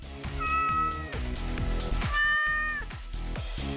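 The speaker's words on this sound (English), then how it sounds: "That was a cat" A cat meows twice, clear and close, over a rhythmic thumping beat.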